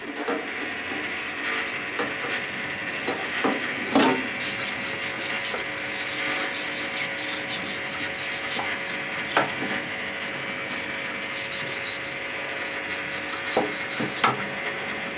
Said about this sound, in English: This is where the little brush comes in handy.